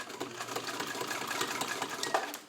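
A Singer 66 all-metal sewing machine stitches slowly through thick leather, a steady close whirring with soft repeated needle clicks running evenly throughout.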